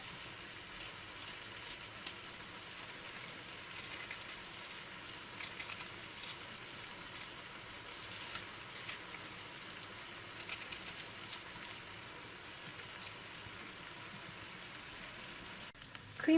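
Chopped onion sautés with egg in a pan, a steady, faint sizzle and hiss from the frying that holds evenly throughout and has no talking over it.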